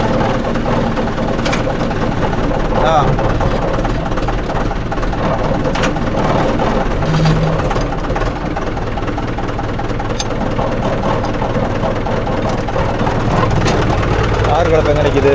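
Mahindra Yuvo Tech Plus 585 4WD shuttle tractor pulling a 42-blade rotavator, its engine drumming steadily and loud throughout, with voices talking over the drone.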